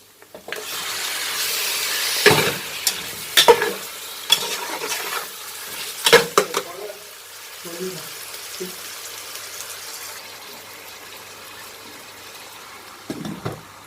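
Chicken fries with spices for biryani, a steady sizzle at first, then sharp clanks of a stirring spoon hitting the pan before the sizzle fades to quieter bubbling, with brief talk mixed in.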